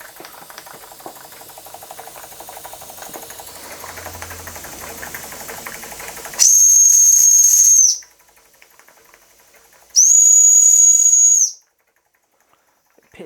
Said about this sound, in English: Piercing that whistle, isn't it?